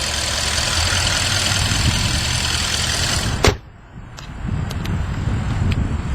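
A 2012 Audi A8 L with the 4.2 engine runs steadily at a loud, close idle, then a sharp click and a brief drop before the engine noise builds back up and settles into an even idle.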